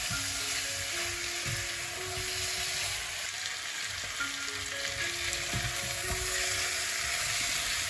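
Chicken frying in oil with spices for korma gives a constant, close sizzle, with intermittent stirring sounds and soft tonal hum from the stove underneath, no talk.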